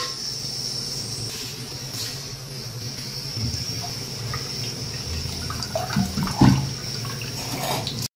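A pot of water for rice boils hard on a kitchen stove, a continuous close bubbling hiss with a few louder gurgles and pops toward the end, heard alone without speech.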